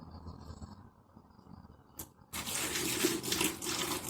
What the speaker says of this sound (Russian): Ну, вот сейчас наливаем воду.